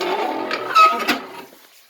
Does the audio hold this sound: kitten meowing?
yes